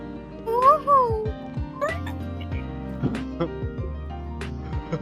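A cat meows several times, with rising-falling cries early on, up close amid a cluttered game-like background of tones and effects, with occasional voices.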